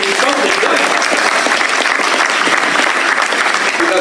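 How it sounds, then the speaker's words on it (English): An audience at a Long Beach real estate investors' meeting gives a round of applause, dense, loud, continuous clapping filling the room for a few seconds. "Let's give them a round of applause for getting something done."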